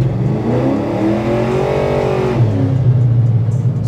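A bubble-body Chevrolet Impala SS with a nitrous LSX 454 V8 pulls hard, its loud, close engine note climbing steadily in pitch, then dropping and settling into a rough, rowdy rumble.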